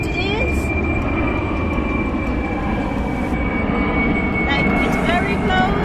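Low-flying airplane passing close overhead on a Dubai street, a loud continuous engine roar and whine holding steady throughout, with a person talking over it.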